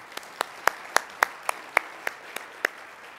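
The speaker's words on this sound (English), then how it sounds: "Okay, now you can clap." A few isolated, sharp hand claps ring out one at a time in a quiet room at a charity luncheon, spaced unevenly in a slow rhythm, as if a single person is clapping for the sponsors.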